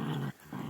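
Dogs growling while playing together, a short throaty rumble that breaks off briefly and then resumes, close by.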